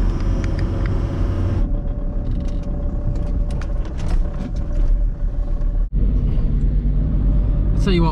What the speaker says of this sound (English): now we are en route to Saint Louis. It's a 45-minute drive